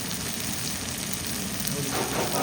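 Onion and tomato fry in a pan, a continuous close sizzle with soft crackles and a brief stirring scrape near the end.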